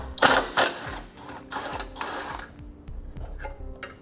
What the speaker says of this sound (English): We'll remove the 10mm bolt that holds it in place.